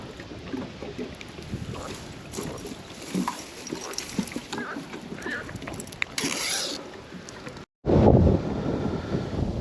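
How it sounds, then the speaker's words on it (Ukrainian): Strong, gusty night wind beside a fishing pond buffets the microphone with a rough, rumbling rush that rises and falls, briefly dropping out before a louder gust hits. "І такий вітер вночі вже звіявся"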